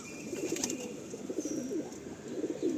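A pigeon in the loft gives low, rolling coos in a continuous soft murmur close by, the throaty pulses repeating steadily with no voices over them.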